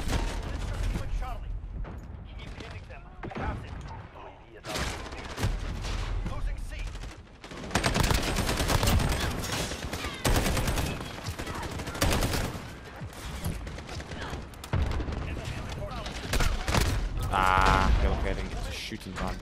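Rapid automatic gunfire in Call of Duty Modern Warfare during a Domination match on the Shipment map, loud dense bursts with mechanical clicks and reloads, broken by short pauses and continuing throughout.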